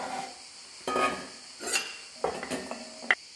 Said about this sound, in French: Ensuite, on les met dans un saladier.